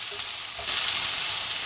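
Onions sizzle and fry in a pan for poori masala, a steady close hiss that swells a little partway through, with no talking.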